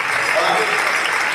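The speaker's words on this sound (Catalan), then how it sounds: "un aplaudiment" A crowd applauds steadily, a dense wash of clapping that holds at an even level from start to finish, with faint voices mixed in.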